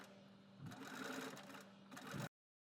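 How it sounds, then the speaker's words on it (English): A home sewing machine stitches a fabric Halloween treat bucket slid onto its arm, with a steady mechanical whir that rises and then stops abruptly into silence. "I found this to be easiest if the bucket was slid onto the arm of my sewing machine."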